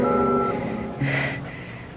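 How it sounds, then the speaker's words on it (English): An answering machine's steady electronic tone holds for about half a second, then a brief higher beep follows, clear and close with no talking. "Please leave a message after the beep."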